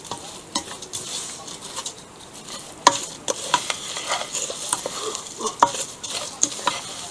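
Bulgur kubbe dough is stirred and mixed by hand in a bowl, close-up, with irregular wet squelching, scraping strokes and occasional sharp clicks of a utensil against the bowl.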